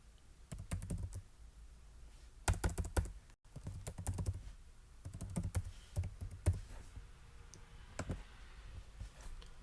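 Fingers tap out an email address and password on a computer keyboard, with soft, quick clicking keystrokes in irregular bursts and short pauses, close and quiet, with no talking.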